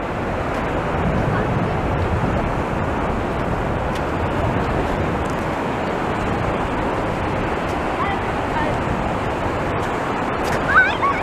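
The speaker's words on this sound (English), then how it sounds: "enjoy watching the tide coming in" Waves of the incoming tide near South Pier in Blackpool in July 2020 wash onto the beach in a steady, continuous surf roar, with some wind noise on the microphone throughout.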